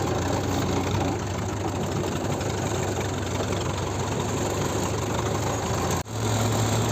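A tractor engine idles close by for several seconds during sugar beet harvesting, steady, rumbling, continuous and loud, with a brief dip near the end before the drone resumes.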